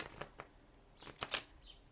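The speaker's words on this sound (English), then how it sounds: "get the tarot out. Let me get a good shuffle here." A deck of tarot cards gets shuffled in a few quick, soft riffling bursts, faint and close, with no talking.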